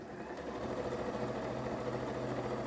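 Sewing machine running steadily as it stitches the side seam of a Christmas stocking, a continuous close mechanical hum with a fine rapid needle rhythm throughout.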